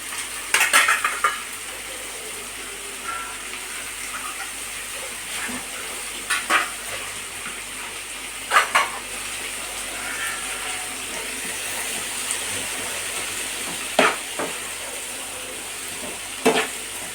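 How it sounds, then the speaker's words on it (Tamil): Green chili and tomato sauteing in a pan for idli kurma, a soft steady sizzle broken by several sharp spatula scrapes and stirring clinks spaced through the stretch, close by with no talking. "இது நல்லா நமக்கு நல்லா வதக்கிக்கிடணும்."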